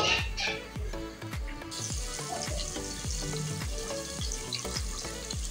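Chopped onion sizzles loudly in a hot pan with steady frying crackle, while a spoon stirs and scrapes in a quick, regular rhythm for a pulao.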